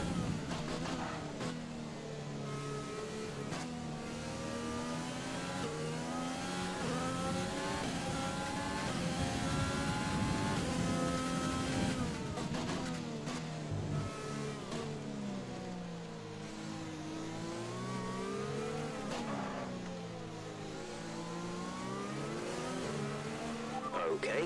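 A Formula 1 race car at the French Grand Prix in a video game roars continuously, its engine note rising and falling through gear changes and corners, with occasional tire squeal and a voice speaking over it.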